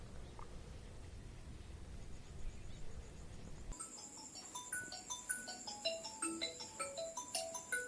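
A phone ringtone for an incoming call starts abruptly partway through and plays a bright, repeating electronic melody of quick stepped notes, loud and close, after a stretch of low background rumble.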